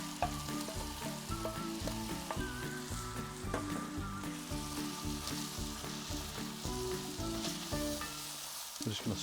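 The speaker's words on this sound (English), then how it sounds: "we're going to go in with our onions and peppers" Onions and peppers fry on a Kamado Joe Classic 2 grill, a steady loud sizzle running throughout with rhythmic stirring and scraping, close and without talk.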